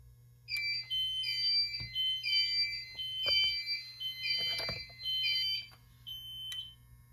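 A Notifier NFW2-100 fire alarm panel sounding a supervisory signal after a detector point is tripped with a magnet: repeated electronic two-tone beeping in short bursts, fairly quiet, with faint clicks and handling noise underneath.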